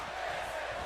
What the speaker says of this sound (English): This crowd has been energetic and loud throughout the entire night so far.